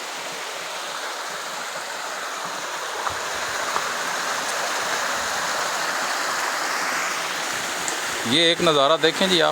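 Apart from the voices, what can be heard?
waterfall at Dohrian, Pakistan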